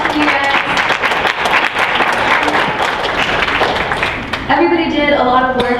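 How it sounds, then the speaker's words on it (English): Student government members receive a burst of audience applause at a campus event, dense clapping filling the room with cheers mixed in, briefly dipping before picking back up as a voice starts speaking near the end. "They deserve a huge round of applause from you guys."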